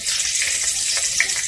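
Whole spices (cinnamon, cardamom and bay leaves) fry in hot oil for a rohu fish korma, producing a continuous close sizzle dotted with small crackles and pops.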